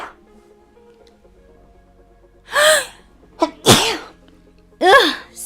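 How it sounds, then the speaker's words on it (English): A woman sneezes indoors, a loud close burst preceded by sharp gasping intakes of breath, the build-up and release standing out against near silence. "I need to sneeze."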